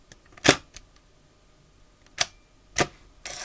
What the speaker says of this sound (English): Love all the sounds of this camera.